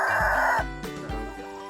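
A chicken clucks a few times up close, short throaty calls with a brief higher squawk at the start.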